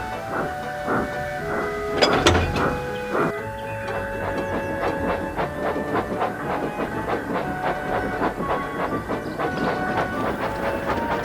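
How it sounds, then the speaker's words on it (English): A rumbling steam engine pulling freight trucks of scrap iron rolls steadily with rhythmic clickety-clack beats and a hiss, wagons rattling along at a moderate distance, no voices. "one of the engines has to take the scrap iron to the yard, where Edward first met Trevor"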